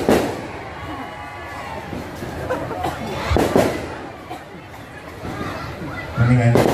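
Firecrackers go off in sharp, scattered cracks and bangs at a crowded Indonesian gathering for a well-known preacher, amid constant chatter and voices nearby.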